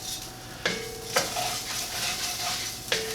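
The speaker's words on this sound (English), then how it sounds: "I toast the rice in the pot as well before I add the wine" Rice toasting in a hot pot before wine is added for a butternut squash pilaf, a steady dry sizzle with a few sharp scraping stirs spaced through it, close and fairly quiet with no talking.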